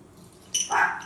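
A house dog gives a couple of short, sharp barks or yips close by in a home kitchen during cooking, brief and sudden against a quiet background.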